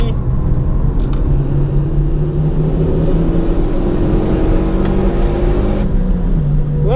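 A car lapping the Zandvoort race circuit during an open track session, its engine droning steadily with rising and falling pitch under continuous cabin rumble.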